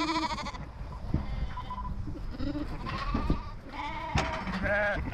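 A flock of ewes and lambs bleats in overlapping calls, some high and thin, others deeper, close and fairly quiet on a farm ahead of shearing.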